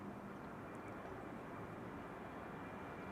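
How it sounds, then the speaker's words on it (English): Faint, distant broadband rumble of a KLM Boeing 737-800 jet climbing out after takeoff at Amsterdam Schiphol, a steady low roar heard alone. "this is KLM flight 1615 to Milan, a 737-800."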